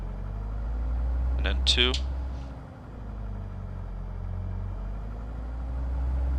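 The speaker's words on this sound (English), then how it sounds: "let's cycle the throttle" A Diamond DA40's piston engine in Microsoft Flight Simulator 2024 drones steadily with a brief dip in power as the throttle is cycled, while a person talks over it.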